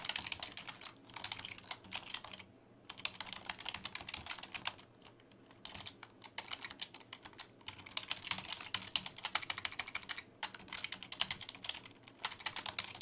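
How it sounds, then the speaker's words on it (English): Rapid clicking of computer keys in uneven bursts, broken by a few short pauses, recorded close and fairly quiet with no voices. "I don't know why I'm having a hard time typing here."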